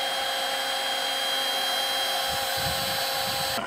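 A heat gun played over sanded plastic on a damaged Windrider Rave pontoon during a plastic-weld repair, a steady close blowing whine that holds evenly, with faint low knocks near the end before it cuts off.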